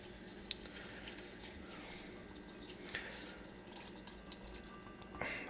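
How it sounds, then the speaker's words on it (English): Soaking water from chilies being poured into adobo sauce: a soft, steady trickle of liquid with faint drips and splashes, close by and gentle, in a quiet kitchen. "So I'm just gonna pour some of that in there."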